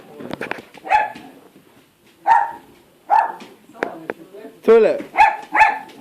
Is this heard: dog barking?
yes